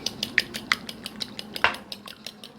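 Egg being beaten with salt and a pinch of black pepper in a bowl, a quick rhythmic series of sharp clinks and taps of utensil against the bowl, close and clear.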